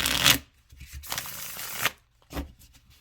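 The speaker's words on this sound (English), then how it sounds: "go ahead and shuffle these." Tarot cards from a new deck being shuffled by hand, heard as three separate riffling bursts of flexible card stock, each a second or less, near and fairly quiet with pauses between.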